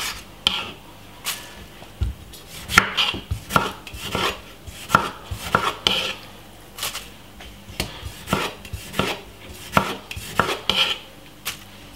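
Tomato is chopped on a cutting board with a knife: a run of crisp, irregular knocks and thuds, close and clear, with short pauses between bursts and no talking.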